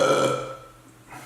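A single loud, drawn-out burp up close, starting strong and fading over about a second, with a brief noise at the very end; no one talks.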